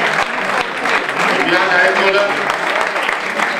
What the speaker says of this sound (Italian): un applauso anche a Viviana